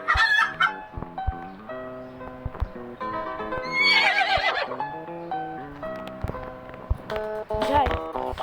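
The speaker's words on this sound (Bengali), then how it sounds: "তো মুরগি এসেছে, মুরগি" Chickens and horses from the video game Minecraft make game-style animal calls, with repeated clucks, a neigh and clip-clop steps arriving in short bursts over about eight seconds, with no talking.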